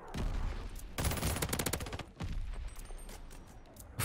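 Gunfire in the shooter game Call of Duty Vanguard, a Search and Destroy match with double-barrel shotguns, heard as dense loud blasts and a rapid burst, with no voices.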